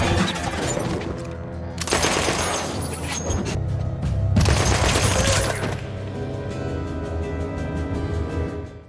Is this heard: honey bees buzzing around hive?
no